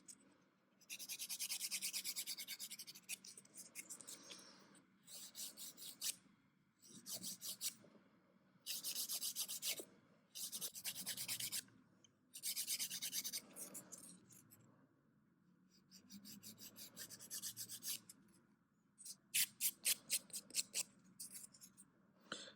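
A nail file shapes fingernails in repeated rasping strokes, close and quiet, coming in short bursts separated by brief pauses, with a rapid run of quick strokes near the end.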